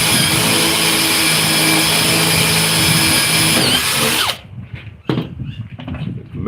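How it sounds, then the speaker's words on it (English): A power drill whines loudly and steadily for about four seconds while drilling a hole for a jigsaw blade in a laptop table build, then cuts off and winds down, leaving a few quiet knocks and handling noises. "Now I'll just drill a hole in the middle of it."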